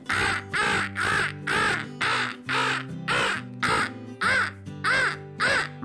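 Bird squawking in a video game, a series of about ten loud, harsh caws in an even rhythm, each one close and separated by brief pauses.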